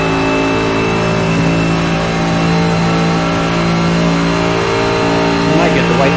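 A Mercedes-AMG GT3 race car engine drones loudly and steadily at Daytona, a sustained high-revving tone with strong harmonics, heard from close up with a voice talking faintly underneath.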